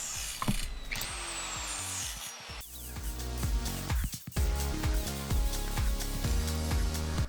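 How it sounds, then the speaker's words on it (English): An angle grinder cutting off nail heads on a knife sheath, a whining motor spinning up with screeching contact bursts, followed by a series of short repeated grinding pulses. "using an angle grinder to cut off the heads of the nails"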